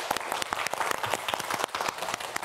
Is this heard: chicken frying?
no